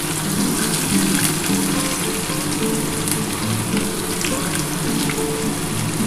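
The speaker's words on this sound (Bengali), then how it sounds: "একটা পেঁয়াজ ভেজে নিচ্ছি" Thinly sliced onions fry steadily in hot oil in a pan, giving a continuous, even sizzle that stays close and fairly loud throughout with no voices over it.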